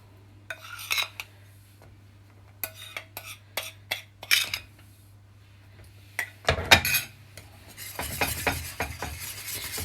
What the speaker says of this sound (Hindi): इसी तरह ही विस्कर से आप सारे को मिक्स कर लीजिए